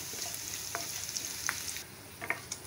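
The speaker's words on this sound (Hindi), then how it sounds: "इसके लिए हम पहले लहसुन और अदरक को लाल कर लेंगे।" Garlic, ginger and curry leaves sizzle in hot oil in a pan, a continuous crackling fry with occasional scrapes and stirring taps, heard alone.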